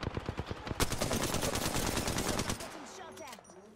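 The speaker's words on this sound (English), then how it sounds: "I am taking fire, friends." Rapid automatic gunfire in the battle royale shooter Apex Legends, a dense loud burst of shots lasting a few seconds before tapering off into quieter game effects.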